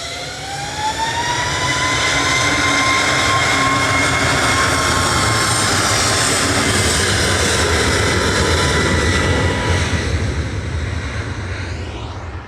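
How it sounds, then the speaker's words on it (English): An EasyJet Airbus A321neo, flight 2141, departs Manchester Airport for Antalya, with a loud, sustained jet roar and a rising whine that swell, hold strong, then begin to fade toward the end. "As the Lufty comes in, the EasyJet departs to Antalya."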